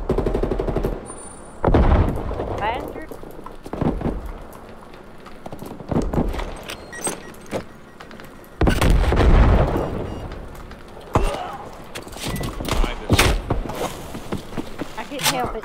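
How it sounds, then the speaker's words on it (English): Call of Duty Black Ops Cold War hardcore multiplayer firefight, with rapid gunfire bursts and heavy booming artillery impacts arriving in several waves, loud and close, with voices calling out between the blasts. "Incoming artillery."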